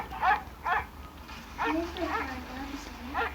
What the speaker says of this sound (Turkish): Gelmesin köpek.